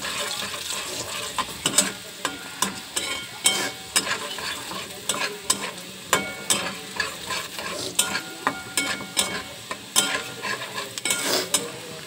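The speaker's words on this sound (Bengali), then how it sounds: "রসুনটা কিন্তু একটু ভাজা ভাজাই হবে।" Garlic sizzles in a small pan for a tadka, a steady crackling fry broken by regular sharp scrapes and clinks of a stirring spoon, close and fairly quiet, with no talk.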